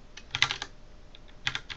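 Keys on a computer keyboard tapped in quick clusters as a git clone command is typed, close and crisp with a short pause between bursts.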